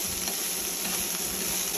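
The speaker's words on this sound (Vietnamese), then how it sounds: "Mình trộn qua trộn lại để cho giá mềm nha mọi người" Bean sprouts stir-fried in leftover oil in a pan, tossed for a noodle stir-fry: a steady, dense sizzle hissing continuously without pause, close and fairly loud throughout.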